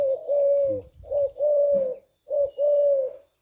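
A spotted dove coos several times up close, deep mellow hooting notes in short grouped phrases with brief pauses, clear and alone.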